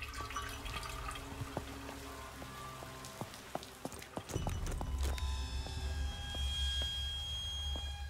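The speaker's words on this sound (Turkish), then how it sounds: "Sifonu açık unutmuşsunuz lan." Steady rushing water from a toilet flush left running in a Turkish survival video game, a continuous low hiss and pour running under scattered dripping and clopping ticks, with no talk.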